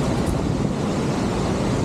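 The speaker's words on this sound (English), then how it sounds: "One of the most iconic waterfalls in Alberta." Lundbreck Falls in Alberta pours as a constant broadband roar of rushing water, loud and steady with no pauses, heard alone without voices.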